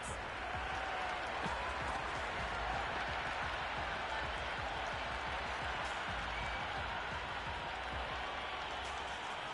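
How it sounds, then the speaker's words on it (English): A video game cricket stadium crowd in Cricket 26, during an England vs New Zealand T20 World Cup match, roars and cheers continuously at a steady level, a broad sustained wash of noise with no pauses. "Will you listen to that crowd? They are loving this."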